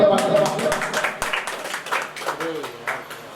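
A mushaira audience gives scattered, uneven applause to welcome a poet, the clapping mixed under a loud announcer's voice that keeps talking throughout.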